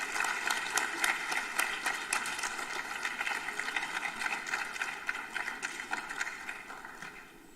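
An audience at a plenary session of a conference applauds a speaker, a dense, steady wash of many hands clapping that fades toward the end.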